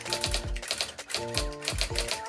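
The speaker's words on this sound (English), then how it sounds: "Each key press results in a satisfying click before the typewriter prints it out." A 1980s typewriter converted into a Linux terminal, its loud tactile keys clicking in quick rhythmic bursts, each press followed by the heavier thump of the print mechanism, close and clear with no talking.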